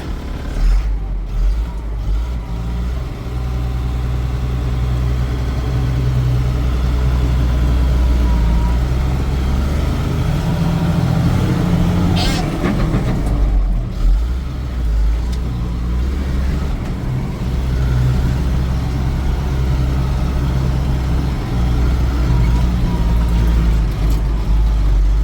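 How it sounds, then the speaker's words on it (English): A 2002 GMC 6500 bucket truck with a Caterpillar 3126 diesel drives along, its steady low engine drone and road rumble loud and continuous, with a brief hiss partway through. "a GMC 6500 bucket truck with a Caterpillar 3126. This is my first test drive."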